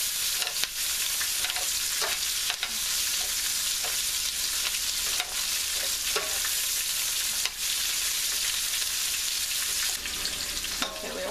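Onions fry in oil in a pan for a tofu stir fry, a steady close sizzle with occasional stirring scrapes and small pops throughout.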